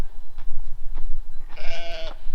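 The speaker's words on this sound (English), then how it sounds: "Hello, sheep." A single sheep bleats loudly nearby, a wavering cry lasting under a second after some faint rustling.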